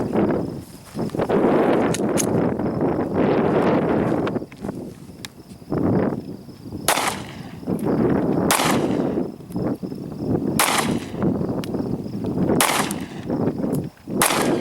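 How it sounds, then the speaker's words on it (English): A Sccy CPX-2 pistol fires at a target seven yards off, a series of sharp, loud cracks spaced a second or two apart, with each report ringing briefly over a noisy outdoor background. "I'm going to shoot 5 rounds, and then my brother's going to shoot the other 5"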